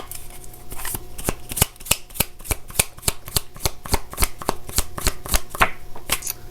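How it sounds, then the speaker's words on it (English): Tarot cards being shuffled up close, a steady run of crisp riffling snaps and flutters repeating in quick succession with no talking. "let's grab one last set of cards for group 5"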